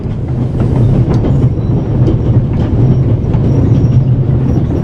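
A train runs on rails in The Raven Remastered, a continuous loud rumble with rhythmic clickety-clack of the wheels over rail joints, steady throughout with no voices.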